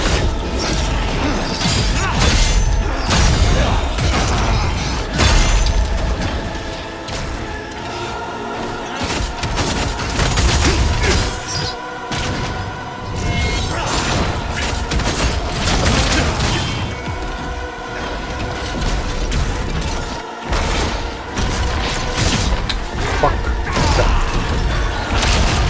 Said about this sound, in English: Okay, 2-tier explosion shit.